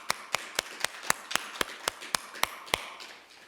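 A church congregation at a Sunday worship service claps in unison: about eleven sharp, evenly spaced claps in a brisk rhythm that fade out toward the end.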